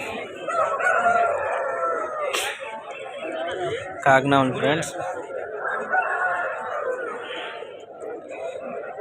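Fighting roosters at a Vijayawada market crow loudly once at mid-length, with clucks and scattered bird sounds around it, while someone talks throughout.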